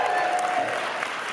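Keynote audience applauds three contest winners in a large room; dense, steady clapping runs the whole short moment at moderate level, with no voices over it.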